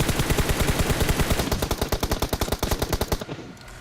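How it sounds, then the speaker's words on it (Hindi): A DP-28 machine gun fires in a video game, two bursts of rapid rhythmic shots, close and loud, the second burst slightly sparser before a sudden stop. "मैं DP की 5-6 गोली चलाता हूँ"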